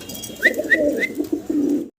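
Pigeons coo at a farm where caged birds are kept, a loud, close run of low rolling coos with a few brief higher calls on top.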